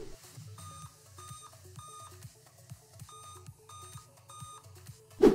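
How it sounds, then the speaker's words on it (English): Repeated computer startup beeps in short regular groups from a Dell XPS laptop, thin and steady, with a soft rhythmic tone underneath and a brief louder knock at the end. "you hear beeping sounds when you start up your computer"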